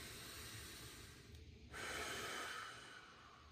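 Slow controlled breathing, a soft hissing exhale that swells after a brief pause and then fades, faint and close with no talk.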